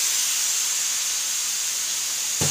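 A pot of curry boils hard, giving off a loud, steady, even hiss of steam, with a brief knock at the very end.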